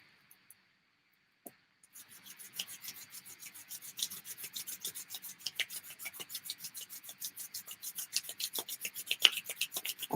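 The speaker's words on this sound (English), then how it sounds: "if you would like to start rubbing your hands together" Hands rubbed together fast and hard, a dense run of rapid rasping swishes that starts after a brief pause and keeps going steadily, growing slightly louder, close and alone without talk.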